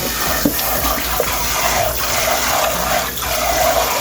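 Running water pours steadily from a faucet as food is rinsed under it, a continuous close splashing hiss with a few small clunks and no talking.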